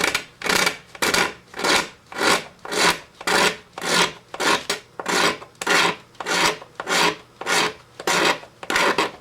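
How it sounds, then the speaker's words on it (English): A French scraper rasps over guitar binding and purfling in a steady series of about fourteen strokes, each a loud scratchy pass with short gaps, heard close and alone. "you can scrape it just like anything else"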